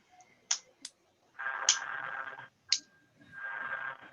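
Sharp single hand claps in an online class, a few sparse separate claps spaced apart with quiet gaps and a faint hum or tone between them.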